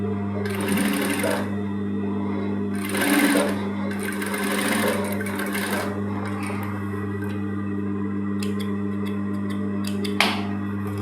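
Sewing machine stitching a seam on a women's shirt, a dense rapid needle chatter over a constant motor hum, running in several bursts with short gaps, sharp clicks of fabric handling near the end.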